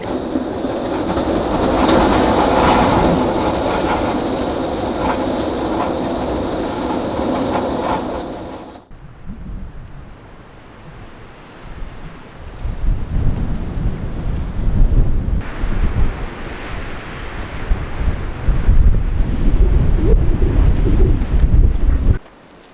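Storm wind buffets a caravan on an Irish homestead in winter. A loud, roaring rush dominates at first, then drops briefly before gusty, rumbling blasts return and build, ending abruptly.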